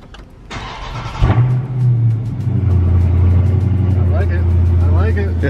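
A Dodge Charger Scat Pack, nearly new with about 700 miles, pulls away with a loud deep engine rumble that rises and holds steady, close up inside the car, after a short burst of higher noise at the start.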